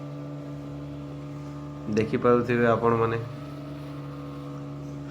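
A boat motoring along on water gives a steady, low droning hum throughout, with a voice speaking over it briefly in the middle.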